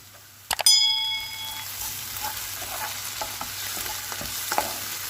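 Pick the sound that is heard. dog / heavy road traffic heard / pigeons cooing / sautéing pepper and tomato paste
sautéing pepper and tomato paste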